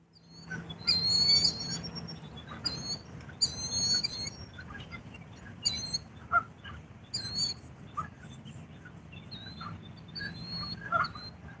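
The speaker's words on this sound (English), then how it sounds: "Shut up, bird." Birds calling at dawn beside the water, an owl among them, with repeated bright chirping bursts and hooting notes at moderate distance over a low background rumble.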